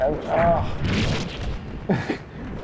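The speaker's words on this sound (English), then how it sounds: "I'm just gonna have to blast them. Have to use some firecrackers." Firecrackers going off in the video game Sword of the Berserk: Guts' Rage, a couple of loud booming blasts with crackle, heard alongside a voice talking.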